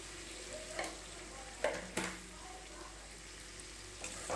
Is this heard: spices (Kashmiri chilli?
yes